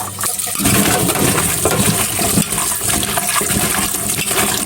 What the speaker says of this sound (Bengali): আর এই যে ডাটাগুলো এখন ধুয়ে নিব।